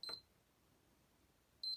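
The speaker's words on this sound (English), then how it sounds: "3 beeps and it shuts down" Short, high electronic error beeps from a faulty PS3 Slim with the yellow light of death, a quick burst at the start and another near the end, with near silence between.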